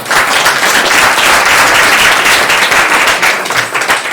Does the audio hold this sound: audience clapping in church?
yes